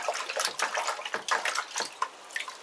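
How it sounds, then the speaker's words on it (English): Water splashing and running as a freshly zinc-plated metal part is rinsed at home, a steady close wash with a few brief surges and no talk. "let's give it a rinse"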